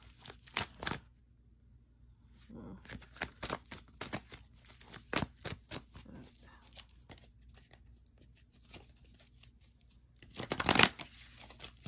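Tarot cards shuffled by hand in repeated quick riffling bursts that snap and flutter, loudest in a final flurry, with a voice talking quietly between them.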